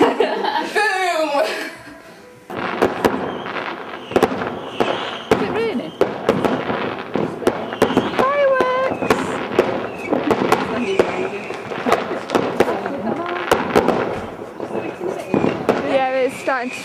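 A Hyperspace Probe firework goes off close by with a dense, continuous run of loud crackling bursts and pops, while people talk and laugh over it.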